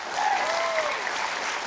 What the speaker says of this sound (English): A round of applause to you, brother.